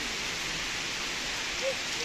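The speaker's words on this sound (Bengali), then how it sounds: "তো বৃষ্টি হচ্ছে, আমরা প্রায় 1 ঘন্টা ধরে আটকে গেছি এখানে" Steady rain pours down beside a road as a dense, even hiss, close and continuous with no break.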